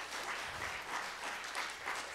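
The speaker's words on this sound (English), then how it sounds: "Give these young people a round of applause." Audience applause for young people at a church service during Homeschool Week, a steady wash of many hands clapping at moderate volume throughout, fairly distant and even.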